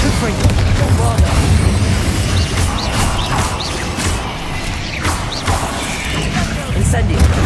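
A Bombarda blasting spell in the wizarding game Hogwarts Legacy, a run of booming, crashing explosions and smashes over a dense, rumbling combat bed, loud and close.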